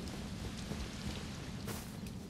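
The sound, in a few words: rain in the video game Elden Ring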